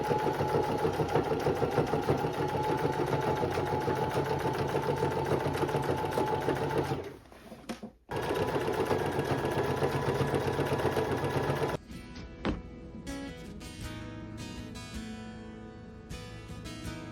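A sewing machine runs nearly continuously, close and steady, while stitching a waistband seam onto a skirt, pausing briefly around the middle, then continuing in shorter, quieter bursts with handling clicks toward the end.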